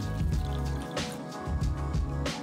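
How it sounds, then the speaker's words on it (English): Chicken stock poured into a soup pot for lemongrass ginger chicken soup, a close, splashing liquid pour with a low ringing pot resonance and a few sharper drips and splashes. "Add in 4 cups of chicken stock."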